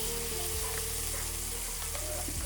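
Onions frying in a pan until browned, a continuous close sizzle and crackle with a low steady hum beneath and a few soft knocks, no voices.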